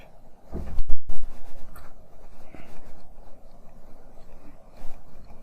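A hand writes out a locus equation for a JEE mathematics problem, giving soft, scratchy strokes that run steadily and faintly, with a brief louder knock near the start and no talking.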